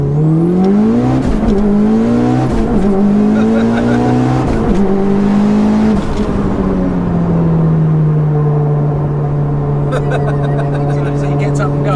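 A 694bhp Mitsubishi Evo V accelerates hard, its engine note climbing through rising gear pulls with brief dips at each shift, loud and close, before settling into a steady high drone; people talk over it.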